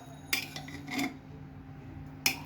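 A spoon stirs freshly cooked milk-and-ghee pulao inside a pressure cooker, giving a few sharp metallic scrapes and clinks against the pot amid soft rubbing, with a low steady hum beneath.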